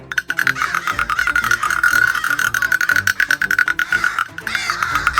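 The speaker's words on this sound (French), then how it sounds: "je vais peut-être sortir les castagnettes" Castanets are played in quick, rattling bursts of sharp wooden clicks that run almost continuously, fairly loud and close, with a few brief gaps.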